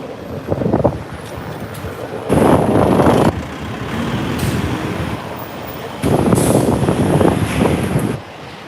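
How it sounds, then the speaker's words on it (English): A lorry rumbles past on a Hong Kong street in loud, broad roaring surges with wind buffeting the microphone between them, close and heavy, with no talking. "We'll let this lorry pass."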